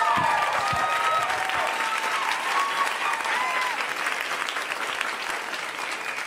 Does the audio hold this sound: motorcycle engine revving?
no